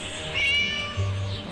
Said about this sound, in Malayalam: പൂച്ചേൻ്റെ കരച്ചിൽ എവിടുന്നോ ആണ് കേൾക്കുന്നത്